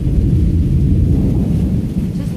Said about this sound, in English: It's not really raining, just thundering and lightning.